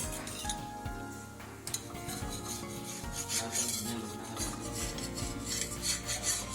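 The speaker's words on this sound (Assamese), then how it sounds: "এতিয়া হেতা এখনে মই পিঠাবিধ ওলটাই ল'ম।" Wheat flour pitha being flipped with a metal spatula in a pan on a low gas flame, giving steady scraping and rasping with small clinks of metal against the pan, close and continuous throughout.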